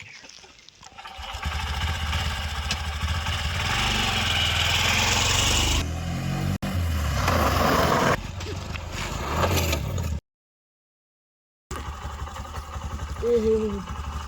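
A motorbike engine runs with a low, steady rumble through most of the stretch, broken by abrupt cuts and a short silent gap, with a voice briefly heard near the end.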